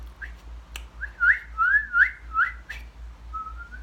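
Someone attempts to whistle, producing a few thin, wavering breathy notes that rise and fall, faint and close, with a sharp click partway through and no talking.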